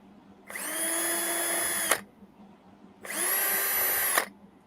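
A power drill whirs in two separate bursts of about a second and a half each, loud and close, with a short pause between.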